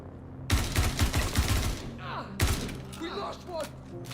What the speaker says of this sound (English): I've never ever hip fired a gun in this game